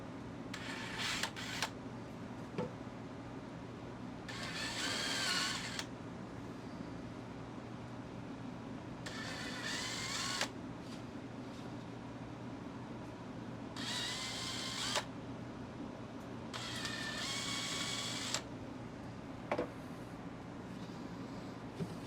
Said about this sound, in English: I'm just pre-drilling and countersinking